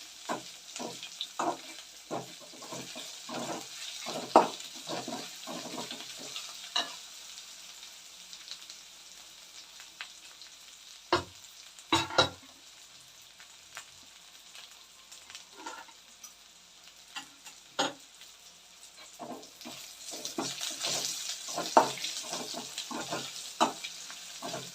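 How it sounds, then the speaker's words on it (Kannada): Curry leaves and onions fry in oil for a village-style greens sambar, a steady crackling sizzle broken by bursts of stirring and scraping clatter, close and fairly loud, with no talk. "ಚೆನ್ನಾಗಿ ಕರ್ಬೇವಿನ ಸೊಪ್ಪು ಎಲ್ಲ ಕ್ರಿಸ್ಪಿ ಆಗಬೇಕು ಸ್ನೇಹಿತರೆ. ಈರುಳ್ಳಿ ಎಲ್ಲ ಕೆಂಪಾಗಬೇಕು ಸ್ನೇಹಿತರೆ."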